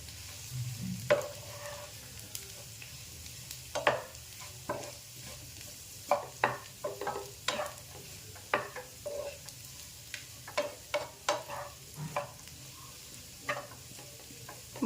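Boiled potatoes being mixed into rava dosa batter, with repeated soft scraping and clicking strokes of a spoon against the bowl at an uneven rhythm, fairly close and quiet, with no talk.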